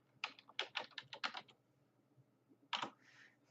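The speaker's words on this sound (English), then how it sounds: "So I'm going to go ahead and type in approach right here." Quiet close-up typing on a computer keyboard: a quick burst of about a dozen key clicks, a short pause, then a couple more keystrokes.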